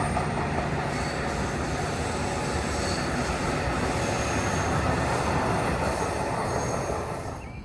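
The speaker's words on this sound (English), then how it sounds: "A look at a MARC train headed north from the pathway under Annapolis Road." A northbound MARC commuter train on the Northeast Corridor in Odenton, Maryland rumbles past nearby, steady broadband roar of wheels on rails with faint metallic squeal, fading slightly at the end.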